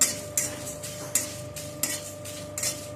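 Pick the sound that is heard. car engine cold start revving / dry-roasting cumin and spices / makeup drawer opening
dry-roasting cumin and spices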